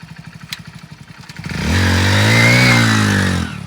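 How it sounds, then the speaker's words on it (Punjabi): A motorcycle engine idles with a rhythmic putter, then revs up loudly and holds a strong steady roar before easing off, close by. "ਗੁਰਵੀਰ ਦੇ ਮੋਟਰਸਾਈਕਲ ਚੱਕ ਓਏ"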